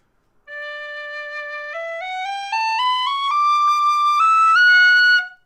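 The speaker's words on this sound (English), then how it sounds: "A whistle built very, very similarly is the V6 by Thornton whistles." A Thornton V6 tin whistle climbing step by step through its second octave, a single bright sustained tone rising in pitch, played alone and close.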